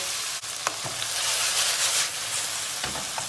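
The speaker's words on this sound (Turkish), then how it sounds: "Biraz da soğanları kavuracağız" Onions with garlic frying in a pan, a steady close sizzle with a few stirring clicks and scrapes, no talking.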